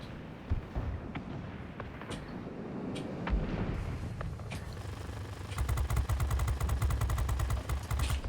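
Rapid aircraft gunfire from a World of Warplanes dogfight, with scattered booming shots and then a loud, sustained stream of fast, even bursts over a steady engine drone.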